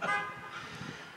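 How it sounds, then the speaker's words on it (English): Car horns honk in the distance, a brief burst of tooting that is loudest at the start and then fades back under the street noise. "I guess that's what all that honking means."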